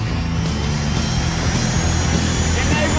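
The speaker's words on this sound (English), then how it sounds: "It sounds like a jet engine." A turbine-powered Y2K motorcycle engine gives a loud, steady jet-like turbine roar with a high whine on top, holding constant throughout with a low rumbling hum underneath.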